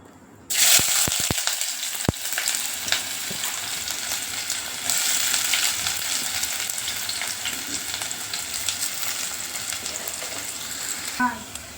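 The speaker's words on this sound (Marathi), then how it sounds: "चला आपण तेल तापत ठेवलेलं आहे, त्याच्यामध्ये आपण चिरलेला कांदा सोडूया" Chopped onion drops into hot oil and bursts into a loud, steady sizzle that crackles on with small pops, frying alone without any voice.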